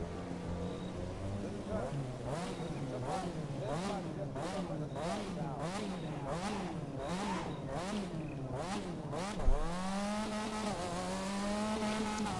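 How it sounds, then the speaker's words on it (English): A rotary car engine in the video game The Crew 2 revs up and down in a rapid, wavering rhythm as it drifts, with tire squeal, then settles into a steady high drone. "This is my drifting car, but listen to how it sounds."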